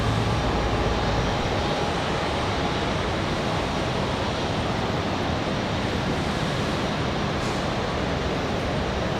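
An airliner at Raleigh Durham airport on a windy day gives off a sustained, even engine rumble mixed with gusting wind noise, constant from start to end.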